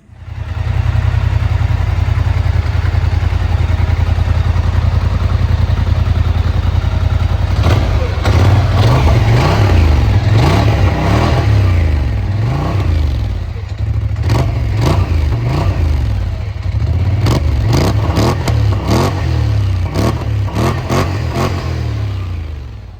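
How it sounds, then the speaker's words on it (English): A 2026 Polaris Scrambler XP 1000S on its stock exhaust, idling with a low steady rumble, then revving repeatedly in sharp bursts that rise and fall, loud and close. "2026 Scrambler XP 1000S. That's the stock exhaust sound."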